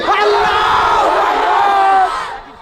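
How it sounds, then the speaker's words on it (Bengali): A large crowd of young single men roars a takbir in unison at an outdoor religious sermon gathering, one loud sustained collective shout that fades out at the end. "সিঙ্গেল ভাইয়ারা তাকবীর দাও"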